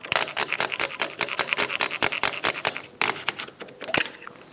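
A small part is cut off an MDF Roman Trade Ship model kit, a rapid series of close, crisp rasping saw strokes in an even rhythm with a brief pause midway.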